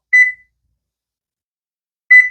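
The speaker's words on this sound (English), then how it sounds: "Okay, our timer's gone off." A kitchen timer beeps twice, short clear electronic tones about two seconds apart, alone in silence, while orzo simmers on the stovetop.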